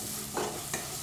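Pumpkin, potato and green peas with spices and herbs being stirred in a little oil, giving a steady soft sizzle with two brief louder scraping stirs, close by and without talk.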